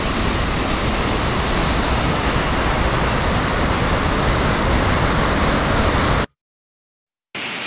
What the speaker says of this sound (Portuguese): Estou no alto da Cascata do Conde D.